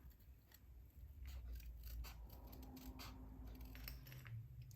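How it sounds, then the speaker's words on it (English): Paper snips cut stamped paper images for a handmade butterfly card, a soft, quick run of small snipping clicks close by over a faint steady hiss, no talking. "So I've just got my paper snips for that. And I'm just gonna get both of these images cut out really quickly."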